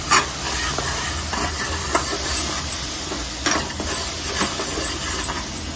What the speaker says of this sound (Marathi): मसाला हा मिक्स करून घ्यायचा व्यवस्थित.